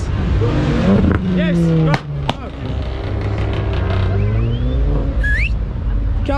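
A car doing a burnout at a night car meet in South Africa, its engine revving hard in repeated bursts with rising and falling pitch, up close and loud, while people shout and cheer over it.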